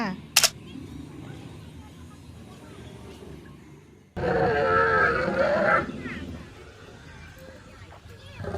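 One crisp camera shutter click sounds near the start at a dinosaur exhibit in Khao Kho, Phetchabun. Later, loud, growling dinosaur-style roars swell and fade.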